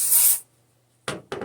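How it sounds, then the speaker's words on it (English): Cleaner sprayed onto the magazine well of a Mosin Nagant rifle during cleaning: one close, sharp hiss, then two short rubbing or spraying bursts after a brief pause. "with a bit of this spray"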